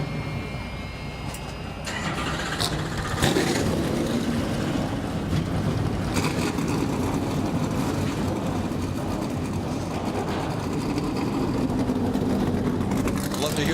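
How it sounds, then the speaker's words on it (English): Several NASCAR Gander Outdoors Truck Series race trucks fire up and idle together for the Camping World 225, a steady, loud, dense engine rumble with crowd noise throughout, and voices running underneath. "Love to hear the sound of those engines fired up"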